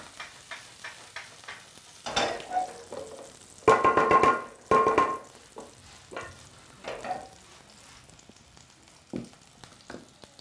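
Chopped onions sizzle and crackle in hot cooking oil in a pan, the start of minced meat for pilaf rice, with stirring scrapes and bursts of louder frying near the mic, no talk over it.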